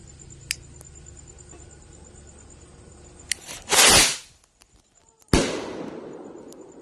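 Small kwitis rocket fireworks with silver tails go off in two loud bursts, each a sharp whooshing crackle that trails away, set apart by a short quiet gap and a few faint pops.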